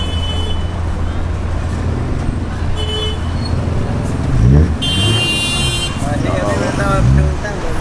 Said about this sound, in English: The traffic here is insane.